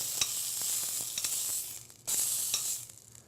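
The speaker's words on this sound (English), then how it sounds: "So we're just going to let that get a nice browning on the outside" Raw meat browns in a hot pan with a steady, close sizzle, broken by a few light ticks and a brief dip before the hiss surges back. There is no talking.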